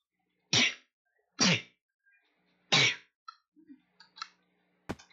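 Three loud, explosive sneezes in quick succession, close up, followed by small clicks and a sharp snap in an otherwise quiet room.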